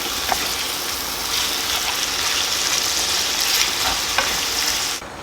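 Meat fries in a pan for spinach stew in the Aleppo style, a loud continuous sizzle close by with faint stirring scrapes, and no voices.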